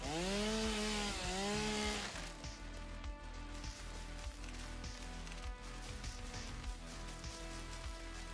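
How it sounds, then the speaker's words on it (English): A chainsaw in the video game Satisfactory, loud and close: a revving engine with rising and falling pitch sweeps for about two seconds, then a steady, rough cutting drone with irregular bursts, with no talk. "Back to the chainsaw now."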